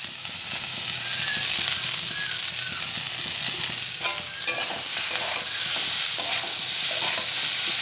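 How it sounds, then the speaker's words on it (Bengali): Small chopped potatoes fry in a pan on a gas stove, giving a loud, continuous sizzle and hiss. Intermittent scrapes and clatters from stirring break through, with a few sharper knocks midway. "আর এখানে আলু ভাজা বসানো হয়েছে।"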